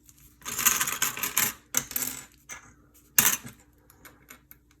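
Plastic or metal pieces snapping onto a handmade fairy journal cover, a run of sharp clicks and clatters close by, bunched into a few bursts with quiet gaps between them.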